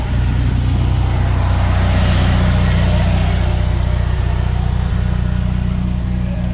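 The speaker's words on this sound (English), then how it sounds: "All right, let me turn off the generator." A motorhome's onboard generator runs steadily and loudly throughout, a constant low mechanical drone with a hum underneath and no pauses.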